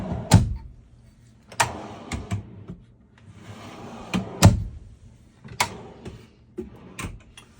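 Large pantry drawers in a custom all-electric coach slide open and shut, giving several close thuds and knocks with brief rolling runs between them.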